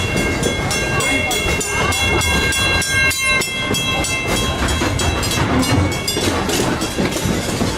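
A train on the Walt Disney World Railroad rumbling steadily along the rails with continuous rattling and clacking of wagons, loud and close, with faint voices mixed in.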